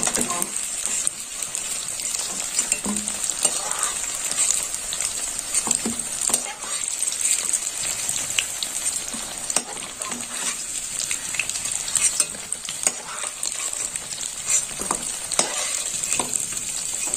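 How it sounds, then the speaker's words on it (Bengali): Paneer cubes frying in oil in a pan, a steady bright sizzle throughout with intermittent spatula stirring and light scraping, close and constant. "এইভাবে একটু একটু করে ভাজা হবে।"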